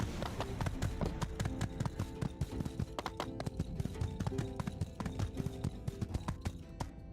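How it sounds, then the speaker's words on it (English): Horse hooves clip-clopping in a quick, steady rhythm, sharp repeated knocks close by, with a faint musical drone underneath. "Horsey, I'm gonna put you over here in the shade"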